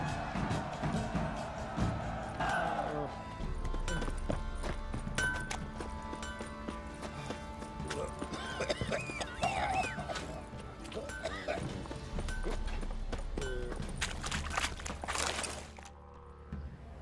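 Roach the horse's hooves clip-clop steadily in The Witcher 3 during riding, a continuous rhythmic gait under game music and ambient sound, with faint voices mixed in.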